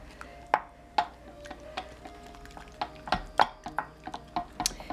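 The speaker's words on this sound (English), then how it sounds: "So the chocolate has melted and I now mix it up" Melted chocolate being stirred for ganache, a utensil knocking and scraping against the bowl in a steady run of sharp taps, close and clear with no talk.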